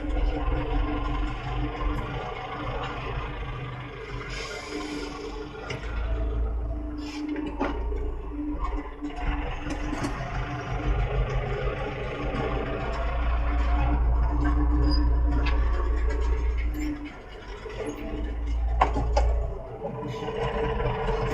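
A Chinese mini tractor pulling a Taarup 24RK seeder, sown with soy, reverses with a steady low engine rumble close by, its drone swelling midway and easing again.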